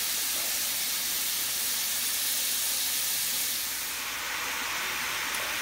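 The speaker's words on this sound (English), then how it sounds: "I'm going to let the vegetable saute a couple of minutes" Vegetables for chili sauteing in a hot pan, a steady close sizzle and hiss that carries on without pause and with no voices.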